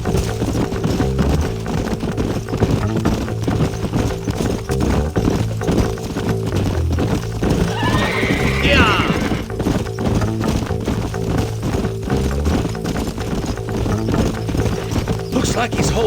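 Horse hooves clip-clop in a steady rhythm under continuous talking voices in the video game Red Dead Redemption, with a brief whinny partway through.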